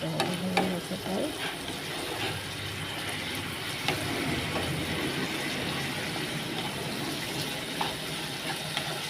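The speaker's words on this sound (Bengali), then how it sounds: "তো প্রায় ভাজা ভাজা হয়ে গেছে।" Food fries in a pan with a steady, moderate sizzle, with occasional stirring clicks and scrapes over the continuous crackle.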